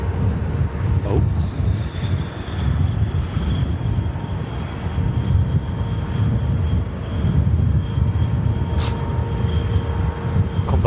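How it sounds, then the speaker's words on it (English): A Norwegian airliner on takeoff, its jet engines a loud, steady broadband roar heard from outside with a faint high whine, sustained throughout and with no voices. "Norwegian 73 on the runway, ready to go."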